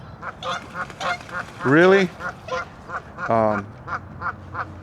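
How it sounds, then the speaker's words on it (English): Geese honking loudly near a riverbank while fishing for catfish in April: a run of short, rhythmic honks with two longer, drawn-out calls, and a person briefly speaks. "these geese won't shut up"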